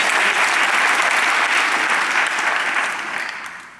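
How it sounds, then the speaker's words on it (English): An audience at a business pitch event at Navy Pier breaks into a loud, steady round of applause that fills the clip and fades slightly toward the end. "Can you give just a round of applause for John?"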